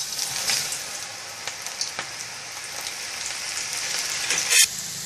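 Okra (ladies finger) frying in hot oil, a steady, close crackling sizzle with popping bursts throughout.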